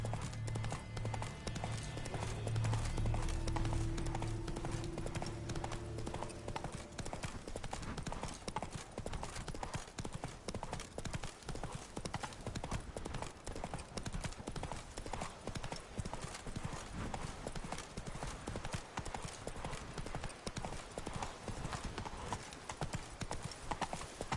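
Horse hooves galloping in The Witcher 3: Wild Hunt, a fast continuous clip-clop rhythm throughout, with game music and brief effects layered over the start.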